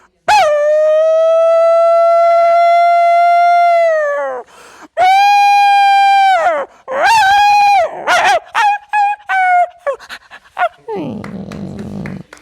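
A voice imitates dogs barking and howling, starting with two long drawn-out howls, then a flurry of quick yelps and barks, ending in rough panting. Close and loud, with nothing else heard.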